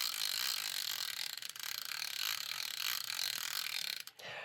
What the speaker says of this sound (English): there's a drag clicker. Let's listen to it.